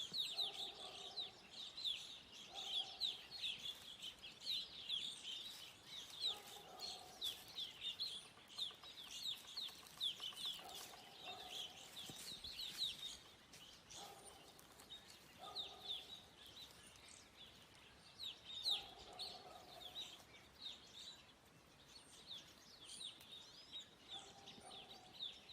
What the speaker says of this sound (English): if you're really quiet, you can hear all the birds in the trees